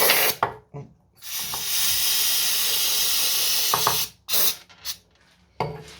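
Aerosol carburetor cleaner sprays onto a petrol lawnmower carburetor in close, loud hissing bursts, a short spurt, then one long sustained spray, followed by several brief squirts.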